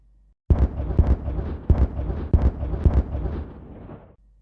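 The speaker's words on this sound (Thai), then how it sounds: "ระเบิดมือใต้ประตูก็ระเบิดออกในที่สุด" A rapid series of heavy, booming blasts from hand grenades, about five in quick succession, rumbling loudly and then fading out.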